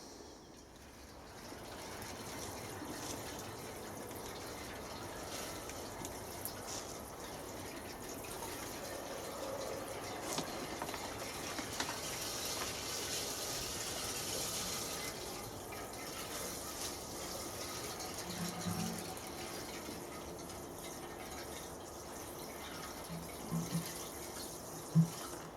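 A watering can pours steadily for about twenty seconds, soaking sand in a heated propagating bench. The wash of water is soft and even, with a few small drips and knocks near the end.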